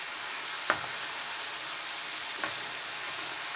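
Thin beef strips coated in batter fry in hot oil with a steady, even sizzling hiss throughout, broken by two faint clicks, with no talk.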